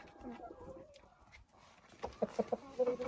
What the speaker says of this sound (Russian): В основном это помесные курочки.